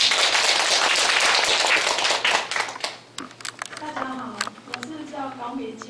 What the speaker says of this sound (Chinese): 来掌声欢迎一下